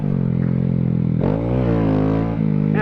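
A Grom motorcycle riding off-road idles steadily, then revs up sharply as the front wheel lifts before settling back and surging again near the end, close and loud.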